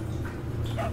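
A puppy whimpers faintly in the video game Resident Evil 4, a soft brief whine against a steady hum of in-game ambience.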